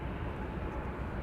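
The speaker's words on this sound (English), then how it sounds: "In the background we have, what is it, Qatar taking off?" A Qatar Airways jet takes off in the background at Amsterdam Schiphol Airport, giving a steady, broad engine roar that holds evenly throughout, moderately distant and without talk.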